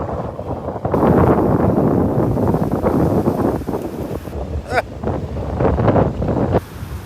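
Strong wind at Delnor-Wiggins beach roars and buffets the microphone in loud, uneven gusts, with the surf faintly underneath.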